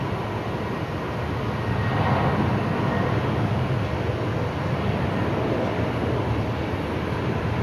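An aircraft departing Brisbane Airport roars steadily as a broad, continuous rumble, loud and sustained with no voices over it.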